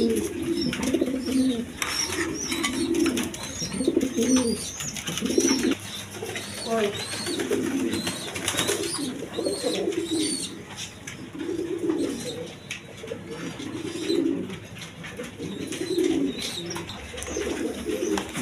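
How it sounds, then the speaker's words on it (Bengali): Two pairs of orange chila pigeons coo in repeated low rolling phrases close by, with faint background noise and occasional sharper sounds around them. "দর্শক এইখানে এক পেয়ার না সরি 2 পেয়ার অরেঞ্জ চিলা আছে দেখেন, দেখার মতো কবুতর"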